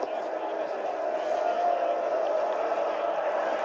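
A steady roar from a large stadium crowd in the FIFA 20 football video game, continuous and fairly loud, like fans cheering and clapping without a break.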